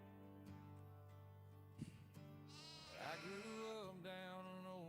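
Goats on a farm let out a wavering, nasal bleat that rises clearly over a faint steady background, with a shorter second call following near the end.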